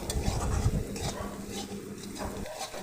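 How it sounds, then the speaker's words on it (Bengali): Chunks of taro sizzle quietly in a pan and are stirred with a utensil, which scrapes and clinks softly at an uneven pace, with no voices. "এটাকে ভালোভাবে ভাজা করে নেব।"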